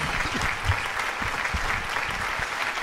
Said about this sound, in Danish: Skal vi ikke give ham et klap